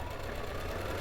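A Brother sewing machine stitches a buttonhole, its steady mechanical whirr and rapid needle knocking running continuously and fairly loud for about a second.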